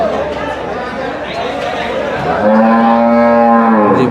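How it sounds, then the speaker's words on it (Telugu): A Jafrabadi buffalo lows at the Erragadda buffalo market in Hyderabad, a long rising-then-level moo near the end, loud and close over constant crowd chatter and voices of people talking. "ఇది జఫ్రాబాదీ బ్రీడ్."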